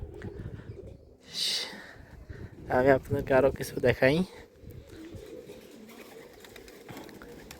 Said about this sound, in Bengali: এই যে পাশে কবুতর আছে